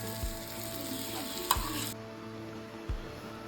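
Golden-brown breadfruit slices fry in a pan, a soft steady sizzle broken by a few spatula scrapes and taps as the slices are turned; no voices.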